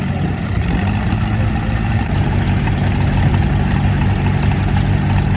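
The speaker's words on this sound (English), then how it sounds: "Start your engines, gentlemen." Several 1917-era vintage race car engines, among them a Kissel, idle together at a race event, a steady low rumble with a continuous throaty drone holding level throughout.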